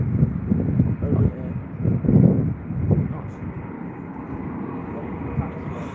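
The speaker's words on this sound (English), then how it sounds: "Here comes a Dreamliner, guys." A Boeing 787 Dreamliner airliner roars past at Heathrow, a broad low rumble with wind buffeting the microphone while people talk over it.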